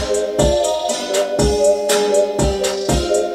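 A hip hop beat with kick, snare and hi-hats playing together over a sustained melodic layer, a steady looping groove, loud and up front, no talking.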